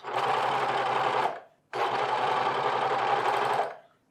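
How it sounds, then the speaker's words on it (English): A serger overlock machine finishes the raw fabric edges of men's pants, running in two long steady whirring bursts separated by a brief pause, loud and close. "I'm going to serge the raw edges and making sure I get the seam allowance"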